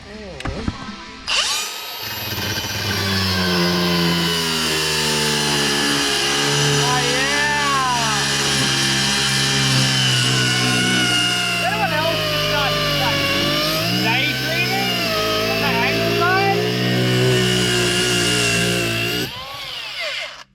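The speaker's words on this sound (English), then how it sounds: "I have an angle grinder here, so I might as well." An angle grinder cuts through the brake pedal of an E46 during an automatic-to-manual conversion, a loud, close, sustained whine with shifting pitch as the disc bites into the metal, running for nearly twenty seconds.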